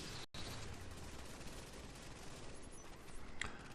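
A deployed turret in The Division fires at Grand Central Station, giving a dense, crackling barrage that carries on almost without a break after a brief cut near the start. It is moderately loud and there are no voices.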